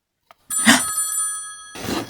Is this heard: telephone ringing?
yes